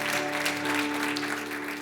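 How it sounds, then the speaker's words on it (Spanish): Congregation applause in a Christian community church, a continuous roar of clapping over a steady low electronic hum from the sound system, even and loud all the way through. "Denle ese aplauso a Cristo porque Él es bueno."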